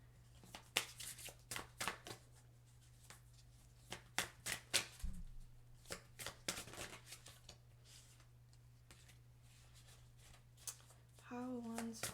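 Oracle and astrological cards being shuffled by hand, a faint, uneven run of quick riffling snaps and soft taps spread over several seconds, with a brief voice near the end.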